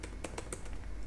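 Several quick keystrokes tap on a computer keyboard while code is typed, a short, quiet run of about six clicks heard alone.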